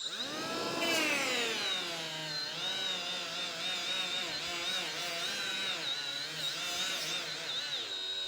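Hercules cordless right angle die grinder running on high speed, a loud steady high-pitched motor whine that rises as it spins up and dips in pitch as it is loaded, alone with no talk.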